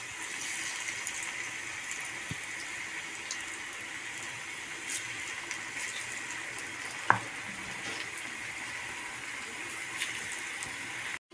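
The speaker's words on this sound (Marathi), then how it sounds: "आता आपण हे तेलात तळून घेणार आहोत।" Onion bhajis fry in hot oil with a steady, fairly quiet hiss and fine crackle, broken by a couple of faint clicks from a utensil, no voices.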